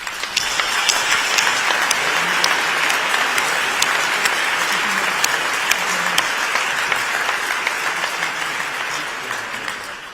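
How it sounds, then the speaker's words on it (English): An audience applauds at the opening of the World Health Summit in Berlin: sustained, even clapping from a large hall that carries on unbroken and eases slightly toward the end. "offer a round of applause to so many global health partners and friends"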